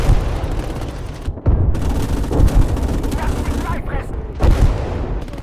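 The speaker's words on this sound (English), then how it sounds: "Friendly artillery gets some great shots in the middle of the road" Artillery barrages and gunfire from a World War II war strategy game, German campaign against Soviet forces, rumble as dense continuous booms and crackling shots with sharper bursts, loud throughout and never dropping to silence.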